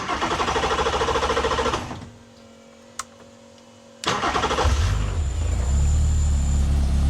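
A stock K20-powered Norma race car engine cranks briefly, then catches and settles into a loud, steady idle close by, following a short quiet pause with a single click.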